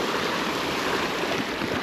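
Ewden Beck, a moorland mountain stream, flows in a continuous close rush of turbulent water, a broad even roar with no pauses and no voices.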